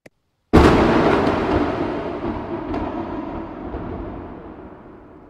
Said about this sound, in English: a thunder echoes through the sky